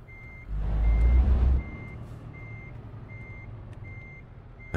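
A truck reversing in Euro Truck Simulator 2, its engine revving briefly under an evenly spaced, steady series of reversing beeps that continue after the engine settles to an idle rumble.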